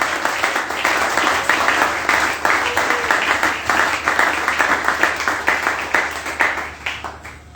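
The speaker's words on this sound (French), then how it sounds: "Est-ce que tu peux donner de bonnes acclamations au Saint-Esprit?" A church congregation claps in a steady, rhythmic beat for several seconds, loud and close, with a dense background of cheering and no speech on top.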